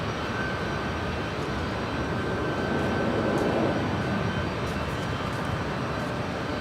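A Delta Airlines Boeing 757-300 takes off at LAX, bound for Minneapolis. Its jet engines make a distant, steady broadband roar that swells slightly midway and holds at a moderate level, with no talk over it.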